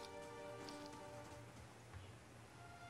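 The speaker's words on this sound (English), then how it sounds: "it's so dark and rainy" Steady rain falls in a dark, dreary area of the video game Pillars of Eternity, a constant soft hiss of drops on surfaces over low, sustained ambient tones, with no talking.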